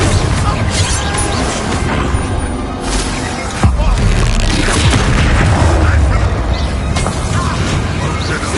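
In the Hogwarts Legacy video game, a Confringo blasting spell goes off in a fight with goblins, bringing heavy booming explosions and crashes over continuous battle noise, with a loud burst near the middle.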